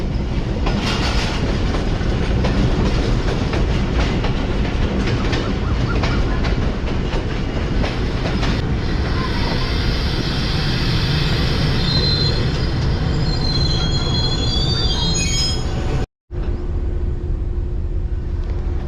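Subak Raftar railcar rolling past on the journey to Lahore, a loud close rumble of wheels on rails that gives way to high, thin wheel squeals, then a brief cutout before the rumble resumes.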